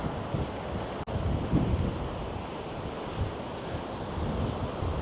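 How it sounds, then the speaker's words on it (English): Rough sea surf crashes onto a small beach on the Scottish coast at Colliston, heard as a continuous loud wash of waves mixed with heavy wind buffeting the microphone. One brief dropout occurs near the start. "There's normally a little beach there, and the waves are crashing over"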